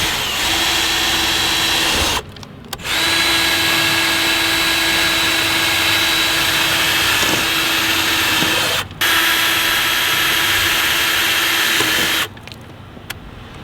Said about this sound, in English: we're gonna start drilling